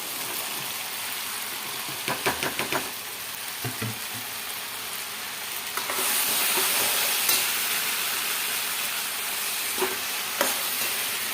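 Small cut okra pieces frying and being stirred in a pan, a steady sizzle with clusters of scraping and clinking stirs, the hiss swelling louder partway through.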